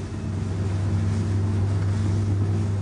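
The 150-horsepower outboard engine of a 6.5 m Zodiac inflatable boat drones loudly and steadily at close range, its low hum constant with a rush of wind and water over it.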